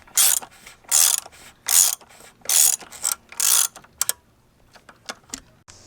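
A ratchet snugging down a bolt on a 3.6 Pentastar engine, five loud rhythmic bursts of fast clicking pawl action followed by a few lighter taps and clinks, close and alone.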